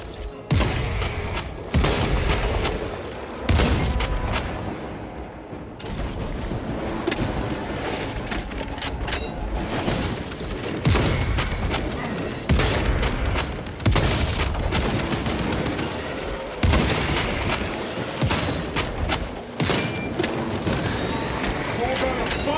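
Sniper fire in Warhammer 40K: Space Marine 2, with loud sharp shots cracking at irregular intervals over a dense, continuous battle din of explosions and chaotic combat noise.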